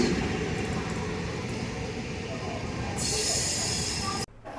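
The Janmabhoomi Express, train 17219 on the Visakhapatnam–Lingampalli route, rumbles steadily with a broad roar of wheels on rail, loud and close, and a higher hiss swells near the end before it cuts off abruptly.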